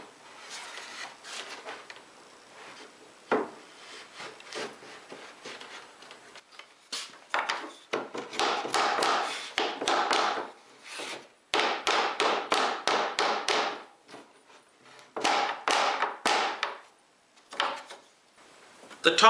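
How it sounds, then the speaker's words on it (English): Wooden barn door pieces with glued dowel joints being pushed and tapped together, a run of close, irregular knocks, rubs and dull wooden thuds in bursts with brief pauses. "Now we can go ahead and fit the two pieces together"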